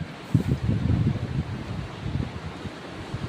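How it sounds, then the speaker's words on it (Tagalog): Steady strong wind rushing and buffeting a microphone in the early morning, with low gusty rumbles and soft rustling amid light rain; no clear rain patter stands out. "Patuloy pa rin yung malakas na hangin at may kunting pagulan-ulan"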